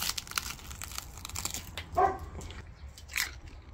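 Teeth crunch into the crackly, crispy skin of a whole lamb roasted on a spit. A few close, dry bites and crackles stand out, sharpest near the middle, with no talking.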